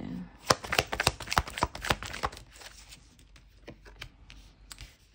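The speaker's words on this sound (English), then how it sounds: "Shuffle this again." Tarot cards riffled and shuffled by hand in a quick burst of crisp, snapping flutters up close, tapering into softer scattered card clicks and shuffles.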